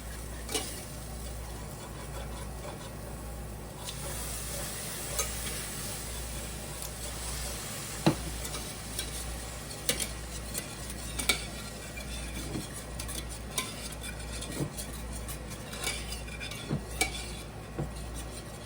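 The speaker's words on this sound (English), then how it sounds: "whisk it in between constantly because you don't want this to stick to the bottom of the pan" A whisk clicks and scrapes steadily against a pan as liquid is worked a little at a time into flour and butter, with rhythmic metallic taps over a low constant hum.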